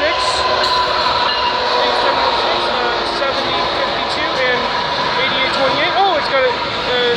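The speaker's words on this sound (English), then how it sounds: "So this is the first train today" Rumbling CP freight train rolling past close by at Bronte Street in Milton, Ontario, with squealing wheels and metallic rattling, steady and loud the whole time.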